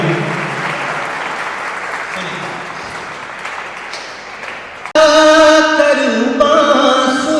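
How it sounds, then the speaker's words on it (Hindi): An audience at a spoken gathering applauds in a broad, steady wash that slowly softens over about five seconds, then breaks off as louder tonal, flute-like music takes over. "तो तालियों से पता लगना चाहिए कि आनंद आया भी है"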